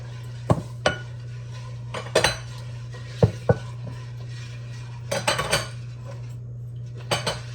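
A utensil mixes pickle brine with sugar in a pot on a stove over medium heat, giving scattered metallic clinks and short scraping bursts against the pot over a steady low hum, with quiet gaps between strokes.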